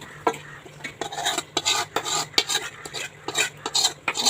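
A spoon stirs marinated chicken frying in a pan with ginger-garlic paste, onion, tomato and green chilli for biryani, giving repeated close scraping strokes in an irregular rhythm over a faint sizzle, with no talk.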